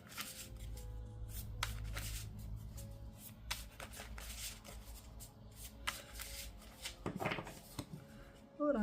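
Tarot cards riffled and shuffled in repeated quick bursts over several seconds, close by, with soft background music or tone underneath and a brief voice near the end.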